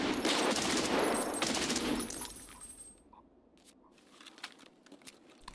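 A scav lets loose a rapid burst of automatic gunfire in Escape From Tarkov, loud and close for about two seconds, followed by scattered quieter clicks and rustles.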